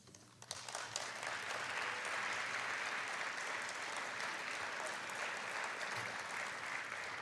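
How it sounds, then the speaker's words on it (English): Sustained applause from a seated audience at a college hall of fame induction ceremony, steady dense clapping filling the room throughout with no talk over it. "A warm round of applause for Bethany Blahnik-Brennan, class of 2006 soccer"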